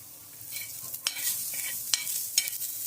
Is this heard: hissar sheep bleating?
no